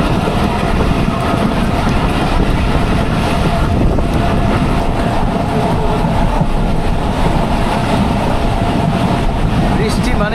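Mongla commuter train crossing the Rupsa rail bridge, a steady loud rumble and rattle of the carriages with wind buffeting the microphone throughout.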